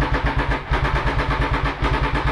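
Motorcycle engine starting up and settling into a loud, close idle with a steady, regular pulsing throb and no speech.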